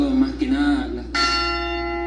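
Church bells ring out loudly in tribute to the late Pope Francis, a clear tolling tone followed by a brighter, sustained strike that hangs in the air.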